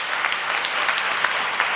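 A full assembly hall bursts into sustained applause, dense steady clapping from many hands carrying through the whole stretch with no voices on top.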